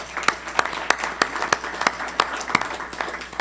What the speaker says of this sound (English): I think we ought to welcome her with a round of applause